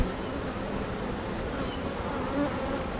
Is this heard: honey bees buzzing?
yes